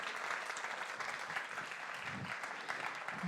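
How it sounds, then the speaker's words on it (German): A church congregation claps for Johannes after his sermon during a livestreamed service, a moderately faint and even patter of many hands that holds steady, with a few deeper bumps underneath. "gerne noch dem Johannes einen grossen Applaus, sagen noch Danke für die geniale Predigt"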